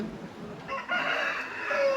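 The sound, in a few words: rooster crowing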